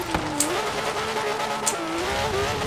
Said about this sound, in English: See how the Porsche takes the off-road.